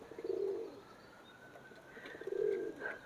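A single pigeon gives two separate throaty coos about two seconds apart, close and moderately loud, with a quiet pause between them and no voices.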